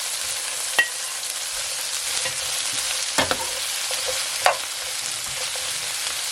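Fish with a sprinkle of thyme frying steadily in a pan, a continuous bright sizzle with a few sharp scraping knocks as it is stirred.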